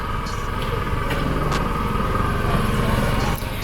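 A boat engine runs at the Kainakary boat jetty on the Kuttanad backwaters of Alappuzha, giving a loud, steady mechanical drone that holds without pause for the whole stretch.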